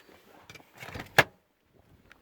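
A squeaky car bonnet being lifted open, giving a soft creak and rustle before one sharp, loud metallic squeak, then a few faint clicks as it settles.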